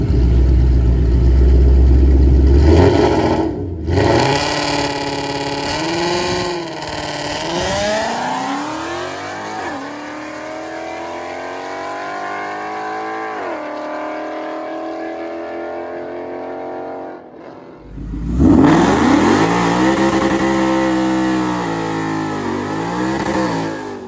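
A 2017 Ford Mustang GT runs down a dragstrip before a nitrous install, its V8 roaring loud and close through several rising gear pulls, then fading before a second burst of revving, with no talking.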